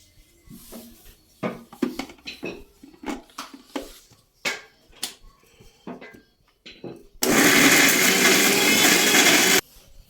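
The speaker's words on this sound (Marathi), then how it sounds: "आता आपण हे सर्व मिश्रण मिक्सरमध्ये काढून घेऊ" A mixer grinder whirs loudly for a few seconds, blending a cooled masala mixture for paneer masala, a steady dense roar that stops abruptly, after a stretch of clinking and handling noises.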